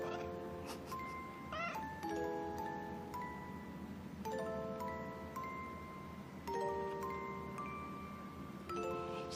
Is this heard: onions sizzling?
no